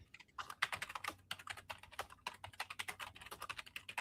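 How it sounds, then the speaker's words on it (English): Rapid, uneven tapping of keys on a computer keyboard, close and fairly quiet, with quick bursts of keystrokes and short pauses between them, nobody talking. "while you're typing that"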